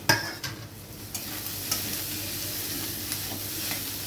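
Mashed potato is stirred into a sizzling banana-flower mocha chop mixture in a pan, with a few sharp spoon scrapes and knocks over a soft, steady frying hiss, close by.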